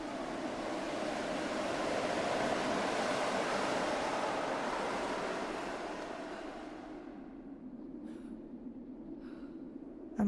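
A strong gust of wind roars through snowy mountain terrain in Rise of the Tomb Raider, swelling to a loud whoosh and then fading away, leaving near silence with a few soft taps.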